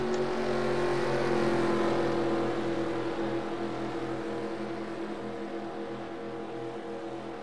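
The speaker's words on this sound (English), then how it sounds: "Brandon Powercar is taking another lap" A race car from a video game drives a lap at Phoenix Speedway, its engine a sustained droning whine that holds steady and then slowly fades.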